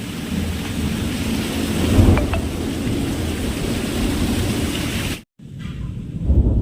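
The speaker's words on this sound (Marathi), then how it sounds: "ढगांचा गडगडाटाचा आवाज ऐकू येते ना" Heavy, continuous low rumble of thunder with steady monsoon rain noise in rural Konkan, briefly cutting out before the deep roll swells again.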